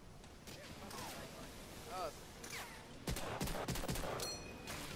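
Gunshots and rifle volleys ring out in Medal of Honor: Allied Assault, a World War II shooter, with sharp cracks growing denser toward the end, while a player talks faintly over the fighting.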